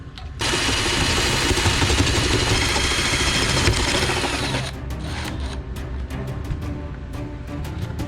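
An electric drill fitted with a larger bit bores a hole, a loud harsh whirring grind running for about four seconds before it drops off into quieter spinning with scattered clicks.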